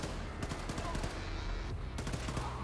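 Rapid bursts of gunfire from the shooter Wolfenstein II, dense overlapping shots with sharp transients and a brief gap before a final volley, loud and continuous, with faint talk mixed in.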